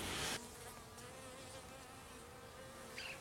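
Honeybees buzz at a beehive in a continuous, faint, steady drone, with a brief louder rustle at the start.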